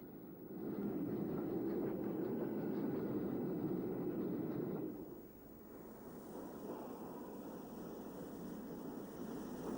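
A Gresley Pacific steam locomotive built in 1923 runs near Retford on the UK railway of the 1960s, a steady loud rumble of the passing train that drops and continues more evenly, with wind noise.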